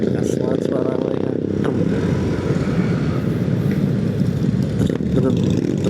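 Loud Harley-Davidson motorcycles rumble on a road during a Sunday morning group ride, a continuous deep engine roar with revs rising and falling while people talk over it.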